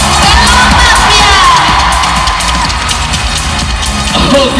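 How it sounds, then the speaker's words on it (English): A crowd of ITZY fans at a Bench fan meet in Manila keeps up loud, continuous cheering and shouting with high whoops, steady and close throughout. "Let's give it ITZY a big round of applause."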